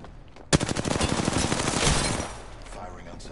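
Automatic gunfire in Apex Legends, a sustained rapid burst of shots that starts abruptly, rattles on for about two seconds and then fades, loud and close with in-game sounds around it.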